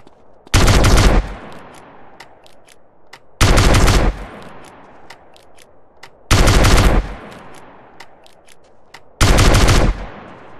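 Loud bursts of automatic gunfire from GTA San Andreas come in four evenly spaced volleys, each roughly half a second of rapid shots, with quieter ringing and scattered single shots trailing between them.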